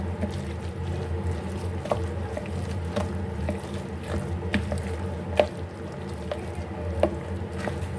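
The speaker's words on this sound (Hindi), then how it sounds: "हाफ कप हमने दूध ले लिया और ये थोड़ा थोड़ा हम करके इसमें डालेंगे और इसको मिक्स करते जाएंगे।" Half a cup of milk is added little by little to a batter for a leftover chapati recipe while it is stirred, giving soft liquid sloshing and light clinks of the mixing utensil against the bowl.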